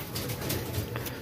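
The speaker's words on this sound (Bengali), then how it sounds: "এটা গিরিবাজ পায়রা" Giribaj pigeon at a pigeon farm in Nabadwip cooing softly and steadily, a low, continuous murmur that carries close and moderately loud with no talk over it.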